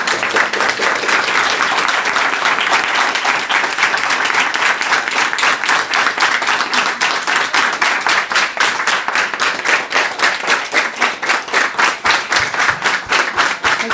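A large audience breaks into sustained, dense applause welcoming a performer onto the stage, the clapping steady and loud throughout before thinning toward the end into more distinct individual claps.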